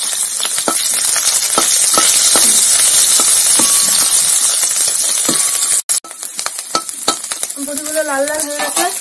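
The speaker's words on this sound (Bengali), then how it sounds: "বড়িটা নাড়া দিয়ে দাও।" Bori, small lentil dumplings, are stirred as they fry in oil, giving a loud, steady sizzle broken by the scrape and clink of a spoon against the pan.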